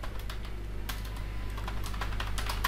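Rapid, steady clicking of keys on a computer keyboard as a search phrase is typed, close and continuous with a few sharper strokes and no talking.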